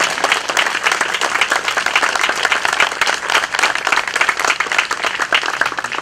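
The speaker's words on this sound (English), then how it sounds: "I wish you would all have a round of applause for the staff of the Centerville Library." An audience applauds the staff of the Centerville Library with dense, steady clapping that holds at full strength for the whole stretch, loud and close, with no voices over it.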